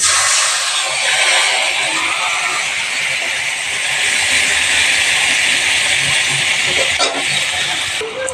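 Water hitting hot oil with salt and cumin gives a loud, steady broadband hiss that sizzles close and unbroken for several seconds, rising and falling slightly with a brief sharper burst near the end.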